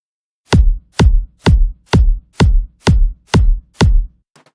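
Three kick drum samples layered together in FL Studio strike eight times in an even beat, each a deep, punchy thud with a bright click on top, ending with a faint trailing tick.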